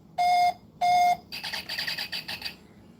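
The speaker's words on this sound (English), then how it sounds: "I got a phone call." A phone rings with two loud, steady electronic tones followed by a burst of rapid warbling chirps, close and clear, with no talk over it.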